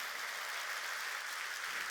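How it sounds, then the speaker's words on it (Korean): A church congregation at a Wednesday worship service claps together, a dense, even wash of applause that holds steady from start to end without any speech over it. "깨달은 사람은 박수 치라고."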